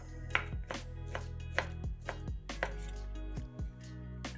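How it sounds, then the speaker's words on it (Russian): A knife cuts slices of cooked-smoked sausage into sticks on a cutting board, giving a dozen or so crisp, close thuds in an uneven rhythm with quiet gaps between them. "Получившиеся пластинки колбасы нарезаем брусочками."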